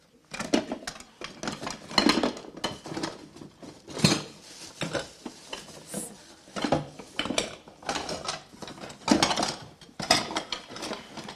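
Drawers in a bedroom are pulled open and rummaged through, producing repeated sliding scrapes, rattles and clattering of small objects in uneven bursts, close by and with no voices.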